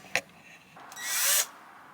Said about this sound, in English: trying to drill through the ceiling